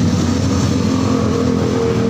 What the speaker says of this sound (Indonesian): Wow, motor Harley.